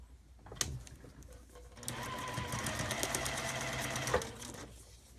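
A sewing machine stitching a long strip of paper-pieced fabric, a brief start then a steady fast run of needle strokes lasting a few seconds before stopping with a clunk, close and moderately loud.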